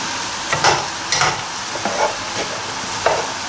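Chopped bread fries in olive oil for pollo en pepitoria, giving a close, steady sizzle broken by several scraping stirs through the pan, with no talk.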